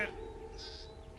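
Sheep bleat from railway tracks, in a short, faint, wavering cry set under a narrator's voice and a low rumbling background.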